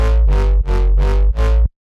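A clean FM synth bass patch sounds three long, loud notes with a growling, harmonically dense tone and short dips between them, ending abruptly in silence, with no voice over it.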